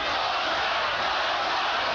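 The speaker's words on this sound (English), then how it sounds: "You notice the crowd now is chanting for Boza Edwards" A boxing arena crowd chants for Boza Edwards during his fight with Hector Camacho, a steady, dense roar of massed voices that holds level and unbroken at a distance.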